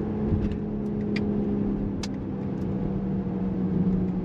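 A BMW XM 50e plug-in hybrid SUV on the move, its steady road and engine hum carrying throughout with a low constant drone and a few faint high ticks, no voices over it.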